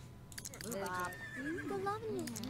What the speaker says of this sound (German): hab ich gerade ein Pferd gehört?